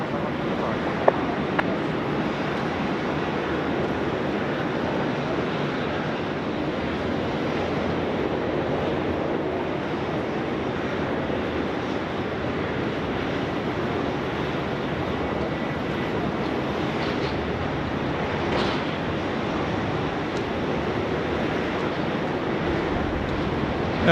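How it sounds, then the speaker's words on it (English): A Qantas airliner takes off from runway 16 right at Sydney Airport, a steady, broad jet roar heard from a distance that holds for the whole stretch, mixed with wind, with no voices. "Qantas 1 cleared for takeoff now finally. Runway 16 right, here we go."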